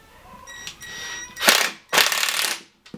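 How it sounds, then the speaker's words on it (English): A drill drives a screw into a cabinet hinge in two loud, whirring bursts, close by, with faint clicks and clatter between them. "I'm going to use another drill."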